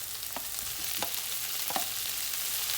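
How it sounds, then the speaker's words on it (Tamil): Tomatoes and onions sauté in a pan with turmeric powder, giving a steady close sizzle with a few soft stirring scrapes and no talking. "குழையிற அளவுக்கு நல்லா வதக்கிக்கணும்"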